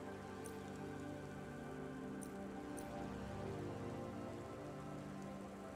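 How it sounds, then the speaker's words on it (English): Steady rain falls through a neon city street in the video game Cloudpunk, a constant soft hiss of drops on surfaces with a few faint higher ticks, heard alone at low level. "Don't let all the rain get you down."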